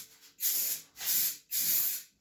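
Three short hissing bursts of silicone lubricant sprayed from an aerosol can under a Bosch 8 kg washing machine, each lasting about half a second with brief gaps, close and fairly loud.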